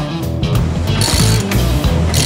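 Ratchet tightening a bolt on a Bronco prerunner build in a garage, a loud run of clicking strokes with bursts of brighter metallic ratcheting, steady and close throughout.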